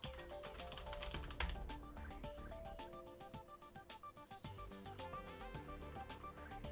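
Fast, steady typing on a heavy all-metal Das Keyboard mechanical keyboard, dense clacking keystrokes close up and alone with no talk.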